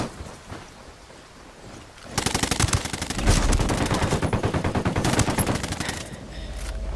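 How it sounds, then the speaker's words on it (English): Sustained automatic gunfire in the video game Ghost War, heard as a loud, rapid burst of shots lasting several seconds after a quieter opening, ending in a rumbling tail. "Under heavy fire! Shit, taking fire."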